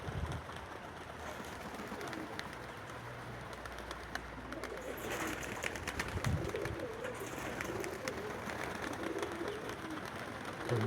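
Several young pigeons coo softly and repeatedly nearby, with wing flutters and a few scuffles over a steady outdoor background.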